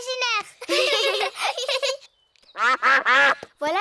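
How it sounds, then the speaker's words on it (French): Cartoon ducks quack several times in quick, loud bursts near the listener, with a short pause between two groups of calls, at a picnic by a pond in an animated children's show. "Oh, ce sont les canards."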